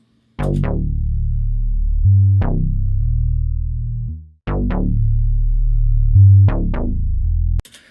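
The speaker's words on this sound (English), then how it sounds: "without any effects, the bass sounds like this." A dry synth bass plays a slow pattern of long, deep notes with plucky attacks, loud and alone, with no added effects.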